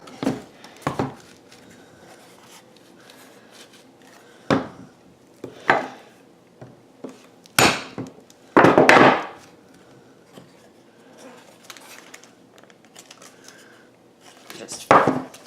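Wooden picture frame pieces get whacked and tapped together, several scattered knocks of varying strength, the loudest a heavy thump midway, over faint handling rustle and quiet background.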